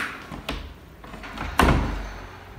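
An apartment door opens with a couple of close wooden knocks and clunks, then a louder thud of the door moving, heard alone indoors.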